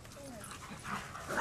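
A puppy whimpers and yips in a house, a short soft whine rising and falling over low background voices.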